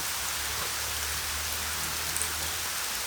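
Rain falling steadily outdoors, a constant hiss of drops on surfaces with a faint low hum beneath, even and unbroken throughout with no voices.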